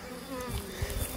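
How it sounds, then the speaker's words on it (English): A crowded honey bee hive, overflowing with bees in a double nuc box, gives off a dense, steady buzzing drone up close, continuous and loud with slight swells. "this one boiling over with bees"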